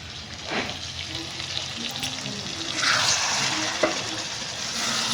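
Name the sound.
chicken being stir-fried (kasha) on a tin stove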